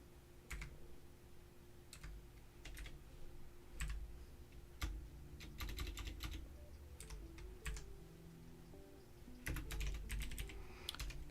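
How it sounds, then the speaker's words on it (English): Typing on a computer keyboard produces irregular bursts of quick key clicks that pause and resume, close and fairly quiet, over a faint steady hum. "I'm almost done typing it. It's a lot to type."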